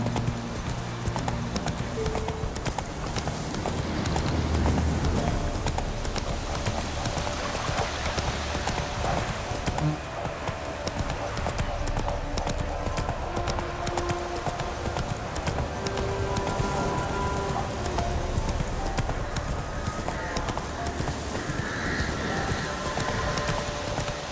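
Horse galloping in the video game The Witcher 3, a steady stream of clip-clop hoofbeats running the whole time under a busy game soundscape.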